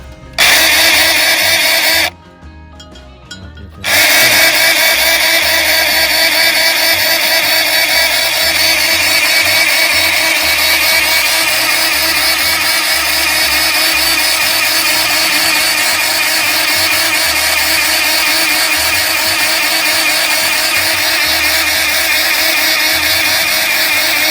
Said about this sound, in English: I'm gonna fire my grease gun back up